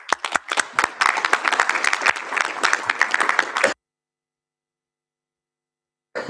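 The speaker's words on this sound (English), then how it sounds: "I'd be great if we could give them all a round of applause." Applause at a borough council meeting, a room of people clapping steadily for about four seconds before it cuts off into silence, with a brief sound returning at the very end.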